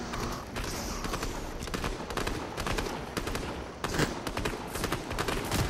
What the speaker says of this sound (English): He's shooting an NPC.